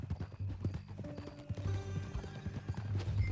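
Horse hooves clip-clop at a steady walking rhythm in the Red Dead Redemption 2 video game, close and continuous beneath in-game music tones.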